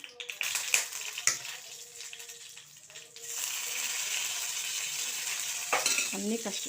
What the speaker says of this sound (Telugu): ఇప్పుడు ముందు పోపు వేద్దాం